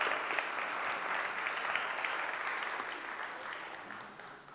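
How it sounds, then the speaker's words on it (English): A congregation at a Sunday meeting claps steadily, a dense, even patter of many hands heard at moderate distance, sustained throughout and tapering slightly at the close. "Let's give him a round of applause for Myrtle Moth."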